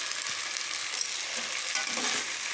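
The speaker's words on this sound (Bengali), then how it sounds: "এটাকে যে দেখুন ভালো করে ভেজে নিচ্ছি আমি" Rice sizzles and crackles while being stirred and fried in ghee in a pan on the stove, a close, continuous hiss with scraping stir strokes and no voices over it.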